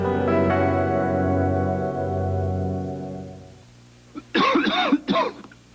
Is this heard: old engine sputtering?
no